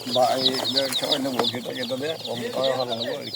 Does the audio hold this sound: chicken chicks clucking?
yes